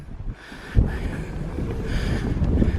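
Cold wind gusting across an exposed hilltop at a Highland wildlife park, a steady rushing roar buffeting the microphone with rumbling low-end gusts throughout.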